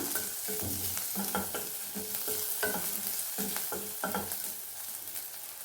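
Turmeric powder being stirred into cooked vegetables in a pan, with repeated rhythmic scraping and clinking of a spoon against the metal and a soft sizzle underneath, close and steady with no talking.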